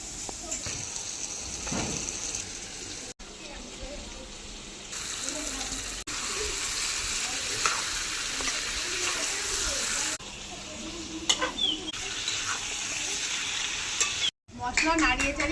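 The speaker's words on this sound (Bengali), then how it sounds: "মশলা নাড়িয়ে চাড়িয়ে মাংসের সাথে মেশানো হয়ে গেছে" Chicken meat being stirred into fried ground spice paste in a pan while cooking country rooster curry, with a steady sizzle and scraping stirs running throughout, briefly broken by short pauses.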